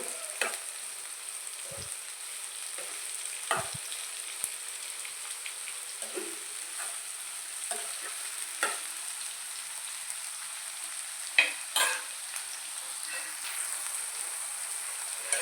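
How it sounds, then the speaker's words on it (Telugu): Onions and green chillies frying in oil in a pan make a low, steady sizzle with occasional sharp pops and spatula scrapes scattered throughout, fairly quiet and with no talking. "అందులో ఉల్లిపాయలు పచ్చిమిరపకాయలు వేసుకొని బాగా ఫ్రై చేసుకోవాలి"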